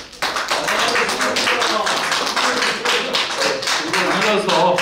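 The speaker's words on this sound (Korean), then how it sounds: "대표님께 다시 한번 큰 박수로" A crowd at a press conference claps steadily and densely for several seconds, loud and close, with some voices mixed in underneath.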